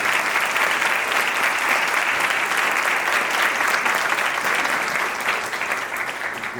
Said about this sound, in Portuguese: Palmas para os dois.